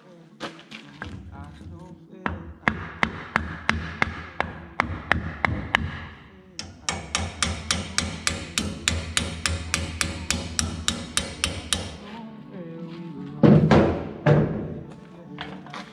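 Loud, close hammer blows striking a wooden block to drive a bearing into a windrower, coming in fast regular runs of knocks with short pauses between them.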